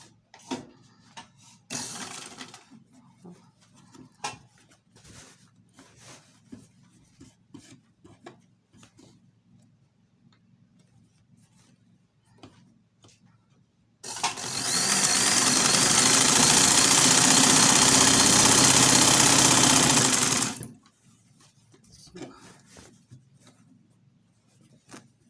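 A sewing machine stitching a traditional iro and buba garment runs in one loud continuous burst of several seconds, with quieter handling and rustling noises before and after.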